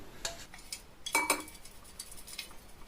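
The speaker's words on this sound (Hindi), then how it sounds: "काजू को हम निकाल देंगे दूसरे बाउल में" Coarsely ground cashews are scraped with a metal spoon from a mixer jar into another bowl, giving a few light clinks and scrapes, quiet and close, with no talking.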